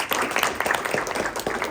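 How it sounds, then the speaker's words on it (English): Audience applause for the judges at a startup pitch event, a short burst of dense clapping from a crowd that fills the whole moment without talk. "Can you also have a round of applause for them?"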